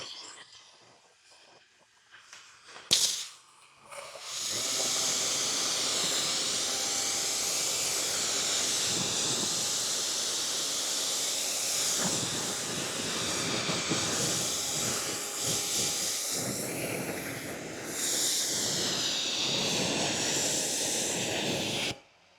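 A pressure washer sprays water to rinse a car during a hand wash, starting with a sharp burst, then a loud, continuous hissing spray that holds steady for most of the time, with brief pauses and changes in intensity.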